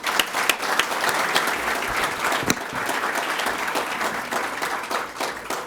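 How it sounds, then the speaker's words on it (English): Applause fills the hall at a health awards ceremony, a steady crowd clapping with a few sharp, close individual claps standing out above the rest. It continues evenly for several seconds. "Please join me in giving Janine another round of applause."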